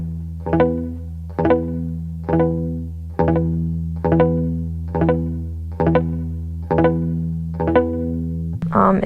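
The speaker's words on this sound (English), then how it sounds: "there's a particular sound that I like to get when I mute a chord or a power" Electric guitar strumming a muted power chord with a trill-like flutter, repeated about eight times in a slow steady pattern, each hit decaying before the next, played alone with a brief noise at the end.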